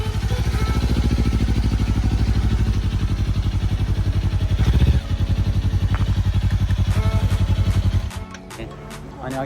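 A motorcycle engine in Tokyo, Japan chugs loudly and rhythmically close by for several seconds, then cuts to a quieter idle near the end, with brief talk in the background.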